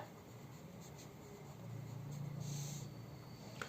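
Pen scratching on paper while angle labels are written on a geometry worksheet, a short faint stretch of close writing sounds over low background hiss.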